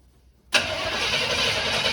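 A square-body truck's engine cranks and catches after a fuel pump repair, bursting from silence into a loud, steady idle that runs close by to the end.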